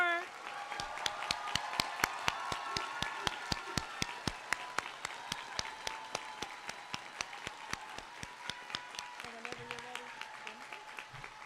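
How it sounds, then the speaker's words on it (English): Sparse, steady claps ring out at a high school graduation ceremony honoring the class of 2024, spaced like a slow rhythmic beat under a background of voices and sustained tones. "if we can give a round of applause for all the class of 2024"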